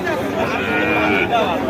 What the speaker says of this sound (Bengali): ভাই কি জাতের বাছুর এটা